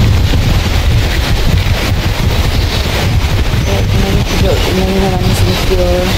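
Strong wind roars steadily across the microphone in the Australian countryside, a loud continuous rumble with gusty buffeting, joined by faint tonal whistling toward the end.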